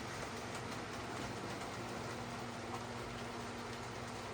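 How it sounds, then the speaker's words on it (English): Diesel locomotives running at a railway diesel gala, a steady rumbling engine drone with a low tonal hum held evenly throughout, fairly distant and continuous. "Some nice diesels running, I think."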